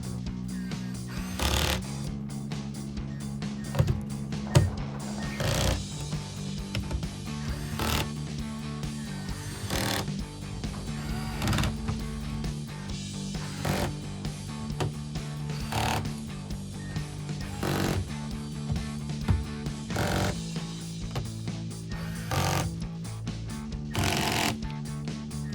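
A power tool runs in repeated bursts, tightening the screws of an Attack Blue nanofiber air filter on a 2020-2025 Corvette C8, working around them in a crisscross pattern; steady mechanical whirring pulses close and loud with no talk.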